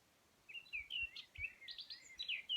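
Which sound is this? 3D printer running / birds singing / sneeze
birds singing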